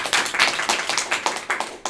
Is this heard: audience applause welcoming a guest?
yes